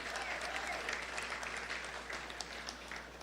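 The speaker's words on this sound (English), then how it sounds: "Give them a round of applause, a lusty round of applause." Audience applause at a tribute event for a former Prime Minister of Trinidad and Tobago, steady and full throughout, a dense crowd clapping without pause for several seconds.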